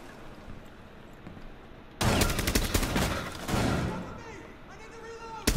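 Shotgun blasts in the Rainbow Six terrorist hunt mode, heard as a sudden, loud volley of gunfire, then a second burst and a final shot, with players talking over it.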